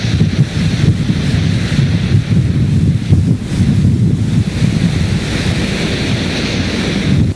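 Stormy Drake Passage seas heard from a ship's bridge off Antarctica: heavy waves crash and roar continuously while strong wind and blowing spray buffet loudly, with no talking.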